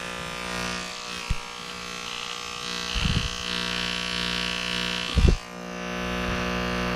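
An electric beard trimmer runs steadily with a constant buzzing hum, close by. A few short, louder bumps break in where it touches something.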